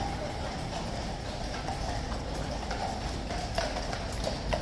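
Household Cavalry Blues and Royals horses at a guard change in a yard, hooves clip-clopping steadily on hard ground at moderate distance, over a broad crowd murmur.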